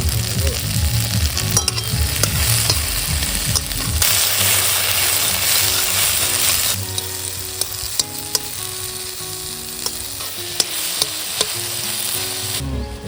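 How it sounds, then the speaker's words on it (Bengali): Cracked jujube berries for a sweet Bengali pickle, tipped into spices frying in a pan and stirred, a loud, close sizzle with scraping strokes and clinks of a spatula against metal, without any talk. "এবার এর ভেতর আমরা কুলগুলো দিয়ে দেবো"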